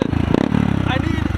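A Honda Grom MSX125 motorcycle engine idles and revs with a rapid, throbbing pulse, close and loud, with a voice briefly over it.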